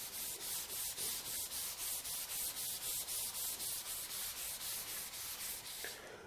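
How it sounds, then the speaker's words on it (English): A 100 grit abrasive fleece pad is worked by hand over rusty steel in steady back-and-forth strokes, about three per second, a close, even scratchy rasp running throughout with no voices. "I can start using the 100 grit Vlies pad onto the surface"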